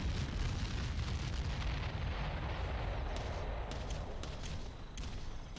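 Artillery bombardment in the real-time strategy game Ground Control, a dense, continuous roar of rumbling explosions and booming blasts rolling on steadily throughout, heavy in the low end with scattered sharper cracks late on.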